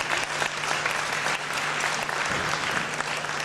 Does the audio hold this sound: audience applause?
yes